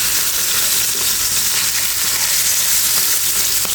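Whole puthi fish fry in hot oil in a pan, giving a loud, dense, continuous sizzle up close that stays steady throughout, with no one talking.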